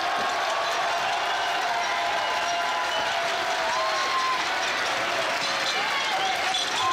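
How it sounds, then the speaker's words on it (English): A pro wrestling crowd roars and applauds steadily after both wrestlers trade superkicks and go down, a dense, loud wash of cheering and clapping with whistles and shouts rising from the arena throughout. "Listen to this crowd."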